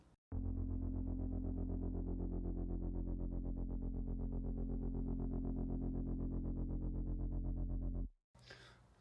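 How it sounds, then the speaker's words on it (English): A single sustained synth bass note on F drones steadily for about eight seconds, buzzy and slightly distorted with a subtle pulsing wobble, then cuts off abruptly. "Just a simple bass, a simple only one note bass using the F."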